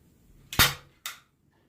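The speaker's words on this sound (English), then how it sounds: "Now you can use T-pins or even your staple gun." Two sharp staple gun snaps close by, about half a second apart, fastening a deer hide during head mounting, the first louder than the second.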